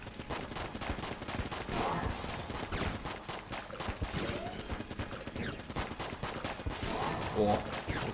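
Rapid continuous gunfire from the co-op video game Enter the Gungeon, dense bursts of shots and explosions layered throughout, with players talking over the action.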